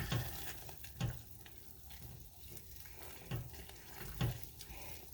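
A boiling crackle candy mixture is stirred in a pot, with repeated scraping strokes and low thuds at roughly one-second intervals over a quiet bubbling hiss, close and fairly soft.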